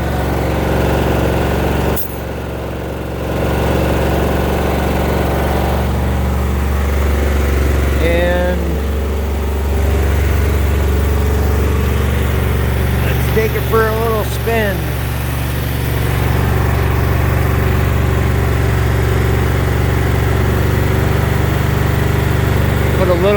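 A replacement Briggs & Stratton engine runs continuously, giving a steady, loud droning hum with a brief roar early on, while someone talks over it.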